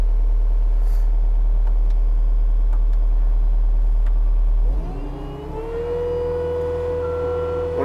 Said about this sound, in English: turn my revs up